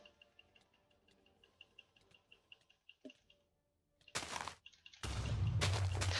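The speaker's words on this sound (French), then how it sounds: "je comprends pas ces petites explosions" Small explosions in the Minecraft video game: after a run of faint, regular ticking, a short blast arrives and then a louder, sustained burst of rumbling noise fills the end.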